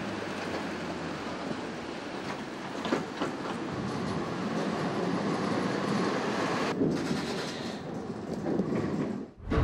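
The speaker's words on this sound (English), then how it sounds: "one of the best ways to see the city sights is in one of these trams" A Vienna city tram rumbles along its tracks with a steady, loud rolling noise and occasional rail clatter, heard close by and without voices, ending with a brief dip and burst near the end.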